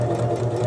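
A sewing machine stitching a side seam at medium speed, a close, steady mechanical whir with a rhythmic needle pulse and no talk.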